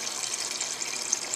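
Water pouring from a refrigerator's door dispenser, a steady hissing stream that runs continuously and fairly close, with no talk over it.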